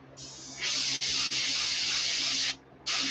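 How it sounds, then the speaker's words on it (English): A paint spray gun sprays a crawfish fishing lure in steady hissing bursts, briefly cut twice, then a pause before another burst, with the gun sputtering rather than spraying smoothly. "because my gun is not spraying very smoothly"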